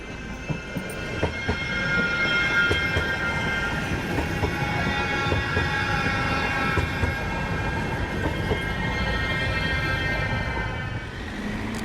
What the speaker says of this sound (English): Observe the train coming by.